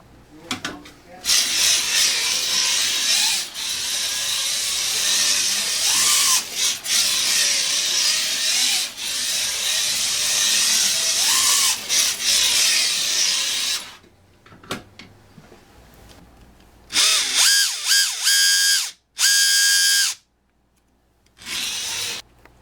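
A whirring, grinding slot car motor of an SRC Ferrari 312 T4 with noisy gears runs steadily for a long stretch, then cuts in and out in short bursts.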